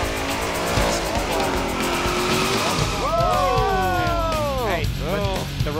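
A drag racing car makes a pass on a strip, its engine roaring loudly throughout with sweeping pitch changes near the end as it accelerates and shifts, while people talk over it.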